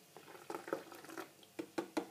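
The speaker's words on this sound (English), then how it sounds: "So obviously pour the milk into your bottle." Milk is poured into a feeding pump bottle at low volume, a soft gurgling trickle with small plastic knocks and taps.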